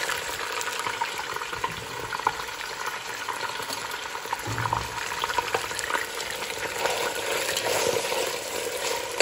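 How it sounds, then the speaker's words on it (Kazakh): Freshly slaughtered meat fries in a pan for a simple village potato supper, a dense, steady sizzle with bursts of crackle and stirring scrapes, close and loud, with no talking. "Етті толық қуырып аламыз."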